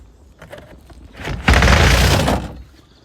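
The rear tailgate of a 2016 Ford Ranger 3.2 TDCi Limited pickup is opened: a few light clicks of the latch, then a loud, close metallic clunk and rattle lasting about a second before fading.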